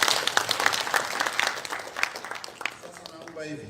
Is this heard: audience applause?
yes